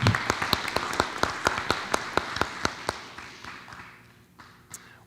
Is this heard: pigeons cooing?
no